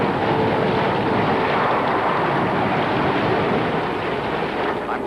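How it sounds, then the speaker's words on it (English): Storm wind and huge waves roar over the Pacific as a dense, loud, unbroken rush heard from a low-flying aircraft, with no voices. "This storm is the worst I've ever seen. I'm flying low over the Pacific. Some of the waves are bigger than mountains."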